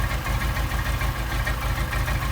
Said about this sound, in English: the engine is still idling